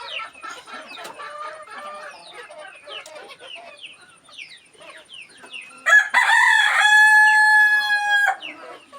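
Native free-range chickens on a farm cluck and chatter in quick bursts, then a rooster lets out one loud, long crow close by that drowns out the flock.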